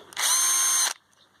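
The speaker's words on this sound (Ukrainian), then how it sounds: "Перший шуруповерт 12В15" A Bosch GSR12V-15FC cordless brushless drill driver on an old battery spins up and runs for under a second with a steady high whine, then stops.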